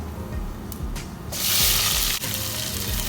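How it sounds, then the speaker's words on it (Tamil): Onions hitting hot oil in a pan for sardine curry with cumin and fennel, a soft sizzle rising into a brighter hiss midway with faint stirring sounds, close and steady with no talk. "வெங்காயம் போட்டாச்சு. ஒரு நிமிஷம் பொன்னிறமாக வறுத்து எடுத்துக்கலாம்."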